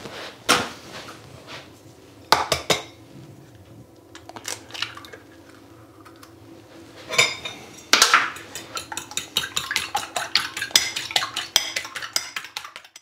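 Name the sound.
lightly beating two large eggs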